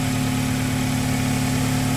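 A car engine idling steadily with a strong low hum and vibration, loud and close, holding an even note with no clear rise in revs.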